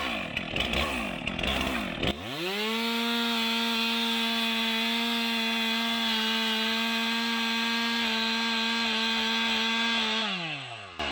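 A chainsaw bar cuts all the way through a tree trunk, the saw revving up sharply and holding a loud, steady high-pitched whine for several seconds before easing off, with no talking.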